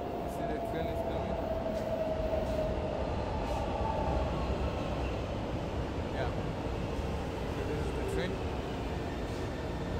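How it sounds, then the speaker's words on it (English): A train arriving at a station in Paraguay rumbles steadily nearby with a faint whining squeal, the heavy rolling noise continuous for the whole stretch, with some background voices. "you see the train is coming?"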